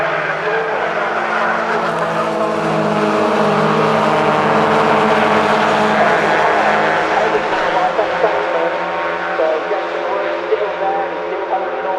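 Race cars battle closely on track at Cadwell Park in a 750 Motor Club race, engines screaming loudly and shifting pitch as they pass, with a commentator talking over the noise.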